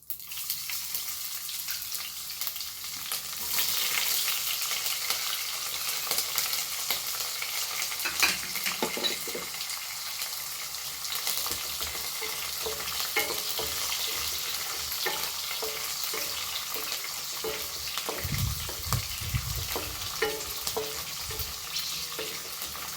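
Crushed garlic and green chillies fry in a pan for a drumstick leaves egg fry, giving a steady close sizzle with intermittent stirring scrapes, and no talking.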